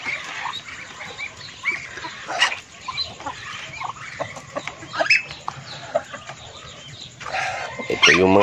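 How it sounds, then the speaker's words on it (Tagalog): Chickens and many chicks on a farm, with close, busy clucking and cheeping scattered throughout and a louder flurry of calls at the end, while someone speaks now and then. "Ayan, ang dami nating sisiw."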